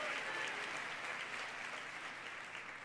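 Sustained applause from a church congregation praising the Lord, a steady wash of clapping that holds evenly for a few seconds and fades slightly at the end, with no voices clearly standing out.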